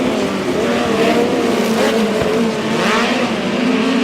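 Midget race cars in a POWRi West Midget League race at Humboldt Speedway, a dirt oval. Their engines roar loud and sustained, with pitch rising and falling as the cars power around the track.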